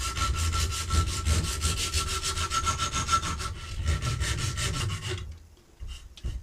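A strip of very coarse sandpaper is pulled back and forth around a hardwood lure master like a saw: quick, rhythmic rasping strokes, close and loud, that stop abruptly near the end.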